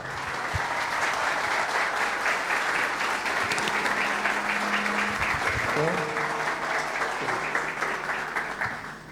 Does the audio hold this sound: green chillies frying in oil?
no